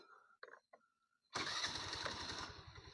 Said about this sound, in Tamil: வண்டியை ஸ்டார்ட் பண்ண போகிறேன்